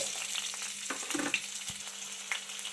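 Cumin and mustard seeds frying in a pan of oil, a close, steady sizzle with small pops and crackles and the occasional scrape of stirring.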